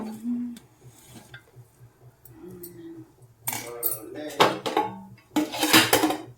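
Dishes and utensils clattering while a meal is served at home, with sparse scrapes and clinks at first, then loud bursts of metal plates and spoons knocking together.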